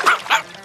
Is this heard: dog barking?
yes